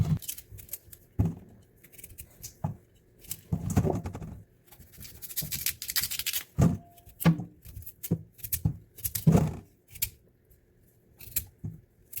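Sweet potato being sliced by hand with a knife, without a cutting board: a series of separate crisp cuts and soft thuds at an uneven pace, close and fairly quiet, with no talking.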